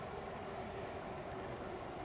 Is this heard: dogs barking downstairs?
no